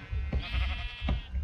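Sheep in a video game bleat twice in quick succession, soft nasal calls over a low background murmur, fairly faint and with no speech.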